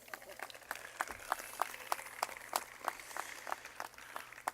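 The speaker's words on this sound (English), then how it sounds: "We can clap for Gustavo, right?" An audience at a 2017 university commencement claps for a graduate, sparse distinct claps repeating in a loose steady rhythm at moderate distance over a low hum in a large hall.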